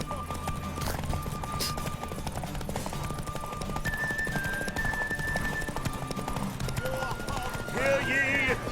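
Hooves of Geralt's horse Roach clip-clopping during a Witcher 3 derby race, a steady rhythmic beat under game music, with a whinny near the end.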